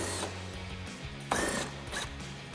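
A 7mm socket on a ratchet backs out mud guard screws on a Ford Bronco, giving short clicking and scraping bursts with brief sharp knocks, close and fairly quiet.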